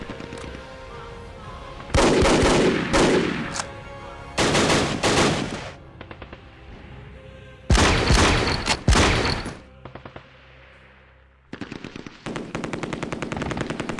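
Bursts of machine-gun fire and gunshots from a WW2 turn-based tactical video game come in several loud, rapid volleys separated by short quieter gaps.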